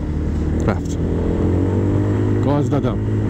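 RKS 250 Fort motorcycle engine accelerating in Istanbul traffic, a loud steady low drone with rising revs, heard from the rider's position under a helmeted voice talking throughout.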